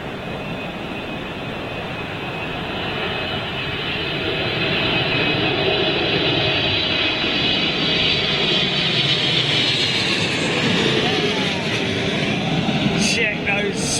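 An airliner lands on runway 27L at London Heathrow during a storm. Its broad engine roar swells and holds steady through gusty wind noise, with voices talking over it.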